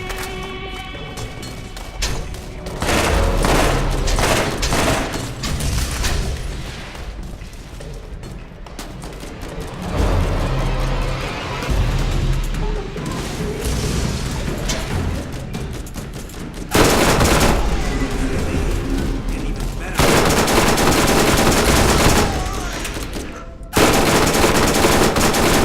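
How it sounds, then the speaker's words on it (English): Rapid bursts of machine pistol and SMG fire in the Borderlands video game, loud dense automatic rattling in several long volleys with brief pauses between, no talking. "Someone back there has a machine pistol of some sort."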